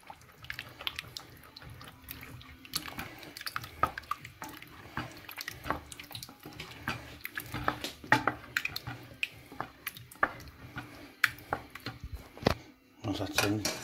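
A spoon stirring homemade crayfish soup in a pot on a low heat, giving soft irregular scrapes and clinks against the metal with small wet sounds, quiet and close, with occasional talk.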